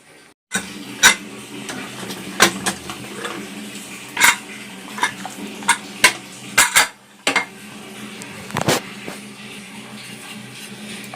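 Metal pots, lids and utensils clatter and clink in a home kitchen as a pressure cooker of sambar is opened and handled, with a dozen or so sharp, close knocks and scrapes spread irregularly over steady low background hum.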